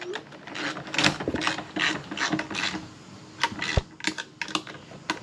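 A hand tool ratchets screws in while an ESPAR D5 heater is installed on a snowmobile trailer, giving close bursts of clicking pawl ticks separated by pauses, with some quiet movement noise in between.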